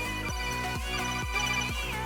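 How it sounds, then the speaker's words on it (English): A phone ringtone plays for an incoming call, a repeating electronic melody sounding four times in a steady rhythm, fairly loud and close over a constant background drone, with no talk. "Phone call."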